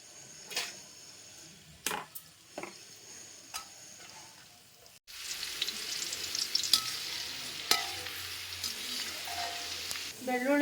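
Coconut pieces are dropped into hot oil and fry with a soft, steady sizzle after a few clicks and stirring taps, quiet and close in a home kitchen.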